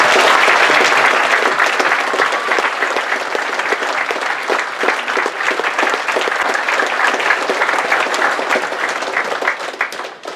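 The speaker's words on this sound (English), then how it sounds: "Let's give one more big round of applause" A crowd claps loudly at a Veterans Day program in Fairfield, Iowa, a dense, sustained ovation that starts strongest and continues steadily for about ten seconds.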